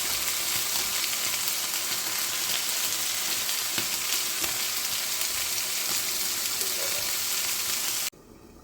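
Chicken tikka fries in a pan, a loud, continuous close sizzle with faint stirring, stopping abruptly near the end.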